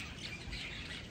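A macaw at a zoo gives one harsh, raspy squawk, close and fairly loud, lasting about a second and heard alone.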